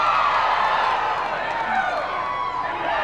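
Rodeo crowd at a 1999 Super Stakes Open horse event, a steady loud roar of cheering and clapping throughout, with people talking over the noise.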